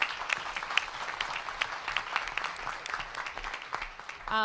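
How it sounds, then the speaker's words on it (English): An audience in a library hall in downtown Washington, DC applauds with a crisp, steady clatter of many hands; the clapping thins toward the end as a voice begins. "Give Glenn Lee a big round of applause."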